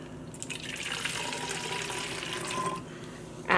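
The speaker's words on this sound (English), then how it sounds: "add just some plain water to here and rinse this out a little bit" Plain water pours into a dye container to rinse it out, a steady splashing, trickling wash that runs continuously at moderate closeness and then cuts off near the end, with no voices.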